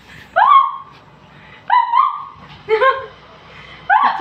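A small Shih Tzu gives four short, sharp yappy barks with brief pauses between them, close and loud in an indoor room, with no talking.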